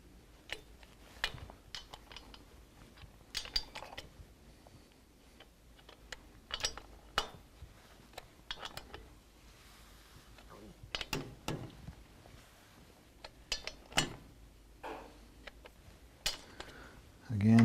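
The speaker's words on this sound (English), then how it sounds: "So I'll go ahead and torque them out this time." A torque wrench ratchets in short irregular clicks while engine bolts on an S&S Cycle performance motorcycle upgrade are tightened to 12 foot-pounds, close and fairly faint with quiet pauses between bursts.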